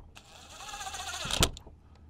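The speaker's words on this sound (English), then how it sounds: "we're just tightening these 8 screws down" A power driver whirs for about a second and a half as it tightens screws on a Shurflo RV water pump, its motor pitch climbing steadily before a sharp clack as it stops, followed by brief handling noise.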